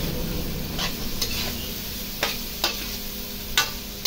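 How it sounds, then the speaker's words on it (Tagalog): Pepper butter shrimp stirred in a pan, a constant sizzle under scattered sharp scrapes and taps from the utensil against the pan. "So, haluin lang natin"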